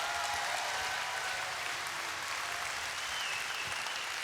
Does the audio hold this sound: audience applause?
yes